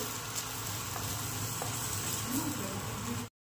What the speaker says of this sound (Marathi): गरम मसाला, धनेपूड, लाल तिखट, हळद चांगलं परतून घेऊ